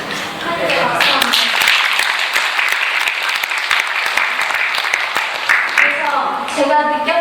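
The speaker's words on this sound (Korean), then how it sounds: "하늘에 박수 한번." Sustained applause from a church congregation, dense and steady clapping filling the room for several seconds at full volume.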